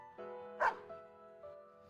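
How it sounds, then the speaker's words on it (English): A dog barks once in Persona 4 Arena Ultimax, a short, clear yip standing out over soft sustained music tones, close and fairly quiet. "Snowy barks as if in answer."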